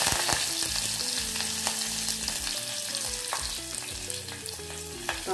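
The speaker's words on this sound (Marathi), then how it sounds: "साधारण अर्धा चमचा जिरं, अर्धा चमचा हिंग, कढीपत्ता आणि मिरची," Cumin, asafoetida, curry leaves and green chilies sizzle and crackle in hot oil in a pan, with steady frying hiss and stirring scrapes throughout, no voices.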